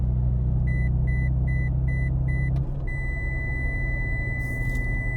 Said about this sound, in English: Okay, it shut off. You can hear it beeping.